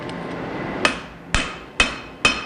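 Hammer strikes a Wootz steel integral chef's knife blade during forging, four sharp ringing metallic blows at a steady, roughly even rhythm, close and loud over quiet workshop background.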